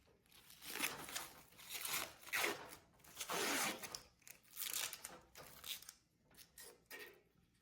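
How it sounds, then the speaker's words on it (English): Protective plastic film peeled off a new oven, close, quiet crinkling and tearing strokes in uneven bursts with short pauses between pulls. "receiving this appliance and peeling off this plastic"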